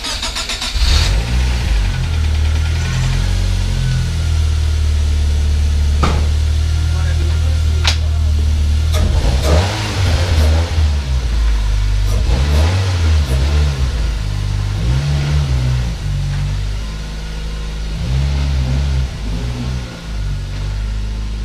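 A Nissan Sentra B13 engine starts up close by, then idles and revs unevenly as the car pulls out to park, its low rumble steady throughout, with occasional knocks and clatters.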